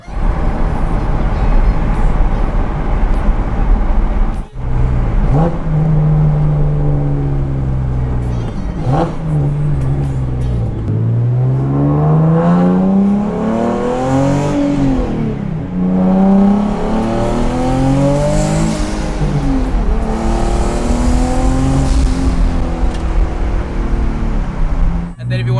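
A Dodge Hellcat accelerating, its engine note rising repeatedly through several gear pulls with a loud, near roar and whine that climbs and drops in pitch.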